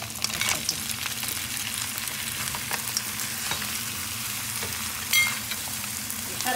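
Shellfish, mussels or clams in their shells, stirred in a frying pan with garlic and onion, giving a steady close sizzle with scattered clicks of shells and a utensil scraping through, and no voices.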